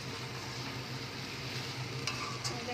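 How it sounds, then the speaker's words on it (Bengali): Mushrooms being sautéed with spice masala in a pan, a faint steady sizzle with a couple of light spatula scrapes toward the end, no voices. "মাশরুমের সাথে ভালো করে কষিয়ে নিচ্ছি।"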